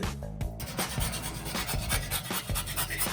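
Whole nutmeg rasped against a small hand grater in quick repeated strokes, close and fairly loud, with a steady scraping rhythm throughout.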